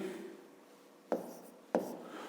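Pen strokes on paper during a fifth-grade maths exercise on a square's perimeter: a soft scratching stretch, then two sharper taps or strokes close by, quiet and without talk.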